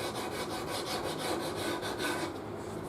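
Sandpaper rubbing steadily across a swamp ash bass guitar body, a close, continuous rasping scrape with a gentle back-and-forth rhythm that eases off near the end.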